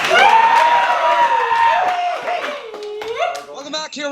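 Hockey arena crowd cheering and clapping before a third period between the Cougars and the Chiefs, a loud continuous roar with whoops and claps, a voice talking over it and a rising tonal sound near the end.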